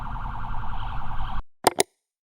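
A van ambulance sounds a steady wailing siren that cuts off abruptly, followed by two short sharp electronic chirps, loud and close.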